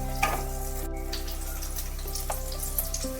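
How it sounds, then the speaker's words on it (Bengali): Raw mango pieces frying in a pan for a sour lentil dish: a steady, soft sizzle with a constant low humming tone beneath it and a few faint clinks. "ভাজার সময় আমগুলো দিয়ে দিতে হবে"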